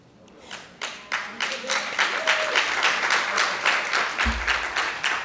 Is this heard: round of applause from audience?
yes